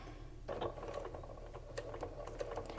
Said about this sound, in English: and I'm going to start sewing